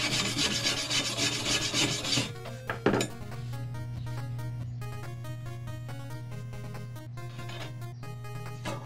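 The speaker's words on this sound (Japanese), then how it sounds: "マイナス端子となるステンレス板を磨いています" A stainless steel plate used as a negative terminal for electropolishing is rubbed and polished, a harsh raspy scrubbing for about two seconds, then a clink and a steady tonal hum with metallic taps.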